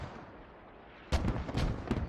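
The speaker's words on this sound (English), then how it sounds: "continue to mortar towards that radio" In the video game Squad, mortar fire lands as a series of booming distant thuds after a quiet stretch, three or four heavy blasts spaced closely over about a second.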